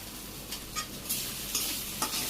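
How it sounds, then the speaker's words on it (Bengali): Noodles with spices stirred in a hot pan, a steady sizzle broken by several scraping stirs about half a second apart, close and fairly quiet, with no voices. "আমি এবার এদের নুডলস রান্না করতেছি"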